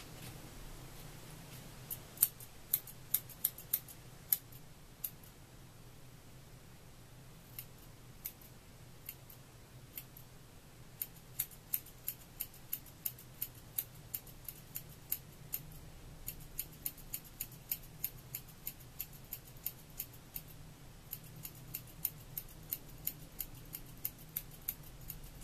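Scissors snip hair guided by a Creaclip cutting tool, a steady run of sharp close-up clicks and snips, quiet, over a faint low hum.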